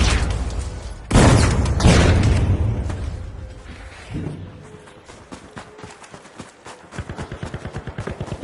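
A frag grenade blasts in the shooter game The Finals: two loud, close explosive bursts close together, followed by quieter clatter and a steady run of rapid, rhythmic impacts.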